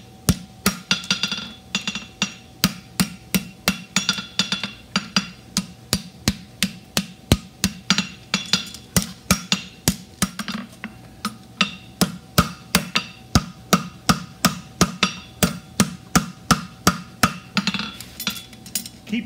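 A blacksmith strikes a horseshoe on an anvil while forging a cap toe, steady ringing hammer blows repeating in a close, regular rhythm, with brief pauses between runs.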